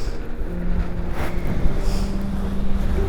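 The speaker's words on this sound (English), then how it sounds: "It could be a little less windy, just a bit." Strong wind buffeting the microphone outdoors, a loud, continuous roar with gusty surges and low rumble, no speech heard.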